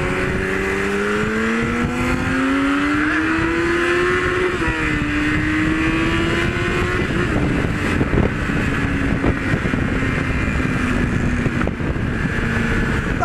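A motorcycle, likely a Kawasaki Z1000, accelerates hard and loud nearby, engine pitch rising steadily through the gears for over ten seconds, alone without talk.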